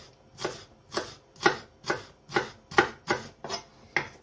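Knife finely slicing the white part of a vegetable on a cutting board for a chicken potato salad, about nine steady, evenly spaced chops close up, with no talking.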